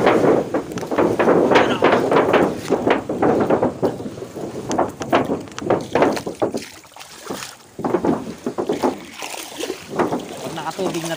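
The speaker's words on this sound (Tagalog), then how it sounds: "Hinahatak na ang bangka." A boat is hauled through water during a fishing outing in Baras, Rizal, with splashing and wind buffeting the microphone as people talk and call out over the noise.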